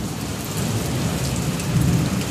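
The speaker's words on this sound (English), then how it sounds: "it's just rain, you know, and lightning and thunder and other things, and hail" Steady rain falling during a Texas thunderstorm near Fort Worth, with a low rumble of thunder rolling underneath, a continuous dense hiss at even loudness with no voices.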